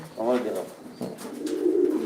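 A native dove gives a low, soft coo, rising in two swells, close and fairly clear, with a voice talking over part of it.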